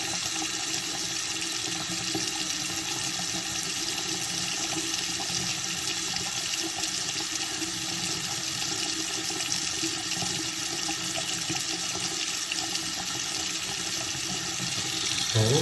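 Tap water runs steadily into a sink drain that was clogged and treated with Liquid Plumbr, a continuous close broadband rush and splash with no pauses and no voices throughout.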